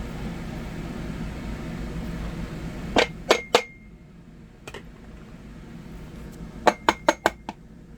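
Ingredients dropped into a metal pressure cooker pot for chicken give a few sharp clinks and knocks, two near the middle and a quick run of four or five near the end, over a steady low kitchen hum.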